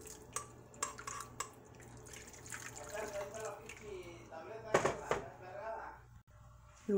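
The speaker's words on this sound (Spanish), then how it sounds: "Le voy a poner el resto del agua." The rest of the water splashes and trickles into a pot of rice cooking with tomato in a home kitchen, heard under someone talking throughout.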